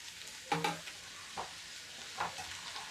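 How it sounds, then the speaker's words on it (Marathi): Cabbage and tomato stir-fried in oil for a Maharashtrian cabbage bhaji, giving a soft, steady sizzle with a few louder scraping stirs near the start and fainter stirs later. No one speaks. "टोमॅटो चांगला परतून झालेला आहे कोबीमध्ये."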